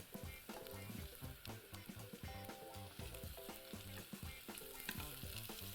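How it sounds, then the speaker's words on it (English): Onions sizzle and crackle in a hot pan, with steady frying hiss and repeated scraping and stirring taps throughout. "Oh, bring out the sizzle."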